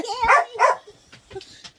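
Dog giving two sharp barks close by, followed by softer yips and whimpering sounds.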